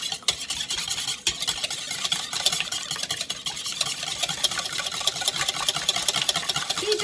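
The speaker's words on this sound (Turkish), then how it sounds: "Yumurtalarımızı iyice çırpıyoruz" Eggs are whisked in a bowl for a leek fritter batter, a fast, continuous rhythmic clatter of a utensil against the bowl that stays close and steady throughout.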